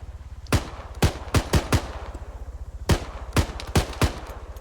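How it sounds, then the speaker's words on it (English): Sharp single gunshots crack out about ten times in uneven bursts while shooting at vehicle wheels in the Arma 3 video game, loud and close over a constant low engine rumble. "Trying to shoot out one of their wheels."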